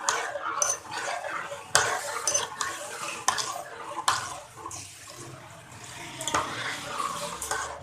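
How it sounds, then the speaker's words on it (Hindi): Kadhi being stirred in a cooking pot while it boils after water is added, with a spoon clinking and scraping against the pot in irregular strokes over a faint watery bubbling, fairly close and moderately loud. "जब तक आप कढ़ी को चलाते रहें।"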